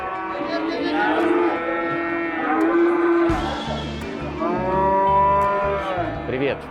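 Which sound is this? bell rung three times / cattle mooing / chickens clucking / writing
cattle mooing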